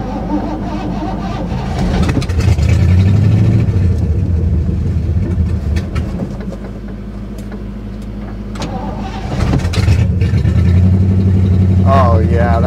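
A 1960 Chevrolet Impala that sat for 32 years cranks and catches, then runs with a loud, close, rough engine note that swells and dips, while someone talks beside it.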